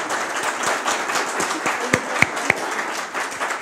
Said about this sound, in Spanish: Queremos darle primero un aplauso a nuestros panelistas, a Sebastián, a Andrés, a Ana Milén.